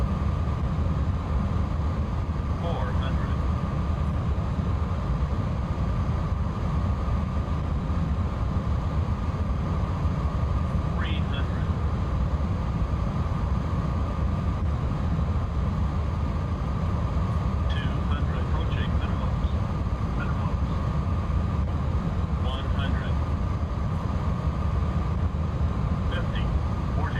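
A Boeing 777 airliner on auto-land approach in the X-Plane 11 flight simulator, giving a steady, loud broadband engine and airflow roar that holds evenly throughout, with a few brief faint clicks and chimes over it.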